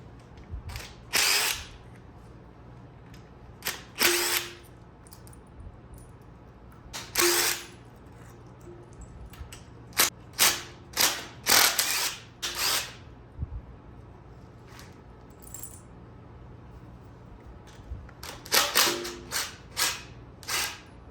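A power tool removes the exhaust manifold bolts from a V8 engine being fitted into a Pinto, firing in short, sharp bursts separated by pauses, with a low steady hum underneath.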